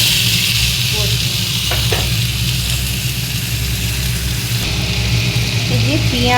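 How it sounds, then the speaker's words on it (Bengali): Onion, green chili and tomato sautéing in a pan, a steady loud sizzle running throughout with a few scraping stirs, a constant low hum underneath. "এই যে পেঁয়াজ, স্বাদ মতো কাঁচা লঙ্কা আর হচ্ছে টমেটো দিয়ে একটু ভালো করে আগে কষি"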